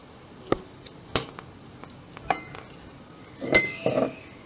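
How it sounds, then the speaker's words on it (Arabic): Utensils clink sharply against a bowl while tomato, cucumber and ricotta salad ingredients with garlic powder, chives and mint are mixed, scattered isolated taps followed by a quick cluster of clatters near the end, close and clear with no talking. "ونخلطوا هاد المكونات كامله حتى تجانس لينا"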